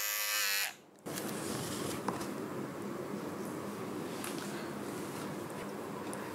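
An electric hair trimmer buzzes steadily as it cuts a boy's hair at home, starting after a short pause and running continuously up close.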